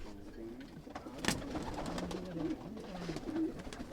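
Pigeons, Punjabi breed, coo in soft repeated calls close by, with faint rustling, a brief click and low background voices.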